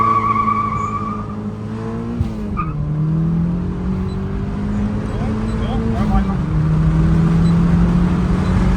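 A more powerful car's engine runs hard in a street race against a Zhiguli, a loud steady drone with pitch rising and falling through gear changes, while people talk over it.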